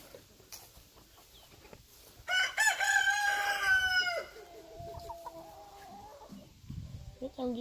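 Game chickens crowing loudly in a long, ragged cock-a-doodle-doo, followed by softer clucking and a second fainter crow, with a person's voice faintly in the background.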